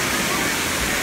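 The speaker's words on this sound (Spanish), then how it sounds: "nos despedimos ya de la cascada de la mina" Cascada de la Mina, a waterfall in El Yunque rainforest, Puerto Rico, roars as a dense, continuous wash of falling water, loud and close, with a voice briefly audible beneath it.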